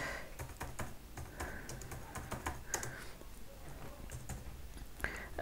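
Quiet keyboard typing on a computer while filling in an online registration form, a steady run of soft, irregular key clicks with no talking.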